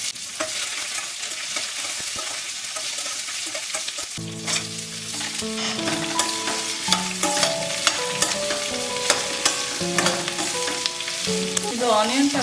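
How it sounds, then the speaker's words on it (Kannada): Mustard seeds and green chillies crackle and sizzle in hot oil in a pan, a steady loud frying hiss with sharp popping and stirring, and music playing underneath. "ನಾನು ಸ್ವಲ್ಪ ಎಣ್ಣೆ ಹಾಕ್ಕೊಂಡು ಸಾಸಿವೆ ಹಾಕ್ಕೊಂಡಿದ್ದೀನಿ."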